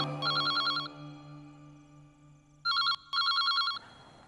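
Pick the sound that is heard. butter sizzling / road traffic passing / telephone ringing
telephone ringing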